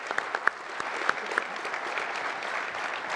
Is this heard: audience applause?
yes